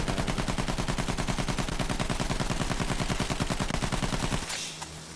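Sustained rapid automatic gunfire from the video game Battlefield 1 hammers on in a dense, even rhythm for several seconds, loud and close, then cuts off abruptly.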